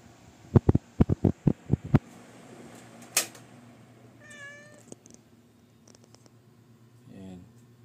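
A pet cat named Henry meows indoors, a quick run of sharp, close meows early on followed by a few softer, scattered mews over a faint background hum.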